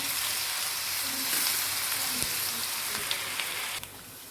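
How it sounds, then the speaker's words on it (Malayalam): Crushed garlic and ginger frying in oil for a lubikka pickle, a constant close sizzle with a few faint utensil taps and a small clink near the end. "ഇപ്പോൾ വെളുത്തുള്ളി ഇഞ്ചിയൊക്കെ ഒന്ന് മൂത്ത് വന്നിട്ടുണ്ട്."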